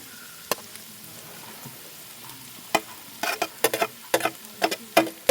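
Beans tipped into a pan and frying, with a soft sizzle under a run of sharp stirring and scraping knocks that grow busier and louder toward the end.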